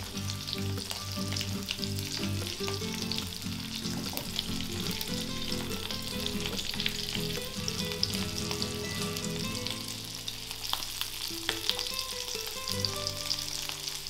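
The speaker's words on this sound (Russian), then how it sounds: "Теперь процеживаем ароматизированное масло и на нем обжариваем креветки" Shrimp frying in strained, flavoured oil in a pan, a loud continuous close sizzle with crackling pops and occasional stirring throughout.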